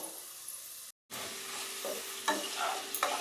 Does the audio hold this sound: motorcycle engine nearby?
no